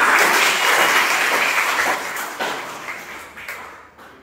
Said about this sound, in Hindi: सर की बात अच्छी लग रही है, तो ऐसे ताली हो जाएंगे क्या?